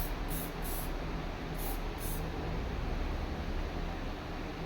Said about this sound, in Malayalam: മൈൽഡായിട്ടുള്ള സ്പ്രേ അടിച്ചു കൊടുക്കുക.